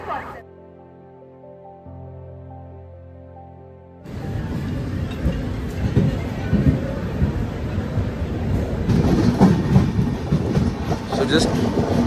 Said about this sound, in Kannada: ಈಗ ನಮ್ಮ ಟ್ರೈನು ಅನಂತಪುರಿಂದ ಡಿಪಾರ್ಚರ್ ಆಗೋಯ್ತು